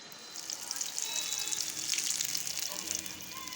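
Pitha batter dropped into hot oil, a soft, steady bubbling hiss of frying heard close and fairly quiet for a few seconds.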